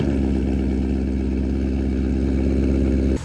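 A Ford Mustang 5.0 with a new Borla exhaust idling up close, a steady, deep, loud rumble that runs evenly and then cuts off at the end.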